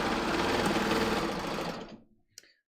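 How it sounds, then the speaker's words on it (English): A serger overlocker finishes the edge of a seam allowance with a fast, steady mechanical chatter up close, then runs down to a stop, followed by a small click. "I'm just going to flip all of this out of the way so I can just serge off the edge of the"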